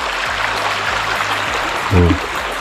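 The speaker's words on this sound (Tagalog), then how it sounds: "Flow ng tubig, maririnig mo." Water flows steadily in a forest stream in Muir Woods, San Francisco, a continuous broadband rush heard close, with a brief low voice in the middle.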